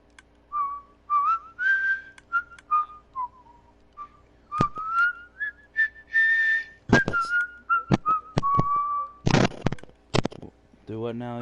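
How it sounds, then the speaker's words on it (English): A person whistles a peculiar melodic tune in short phrases with pauses, fairly close, with occasional clicks and bumps between the notes and no talking. "Arthur starts whistling a peculiar tune that"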